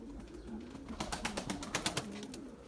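Pigeons cooing softly beneath a burst of rapid wing flaps as the birds take off into flight during a pigeon-flying session, the flapping loud and close for about a second amid low background murmur.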